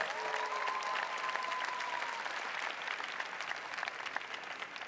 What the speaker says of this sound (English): Please join me in a round of applause for the Master of Science in Healthcare Analytics and Information Technology